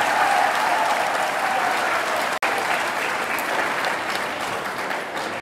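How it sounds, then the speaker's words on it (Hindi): A large audience claps in a continuous, even roar of applause for over five seconds, with one brief dropout partway through and no clear speech. "तालियां बजाओ यार"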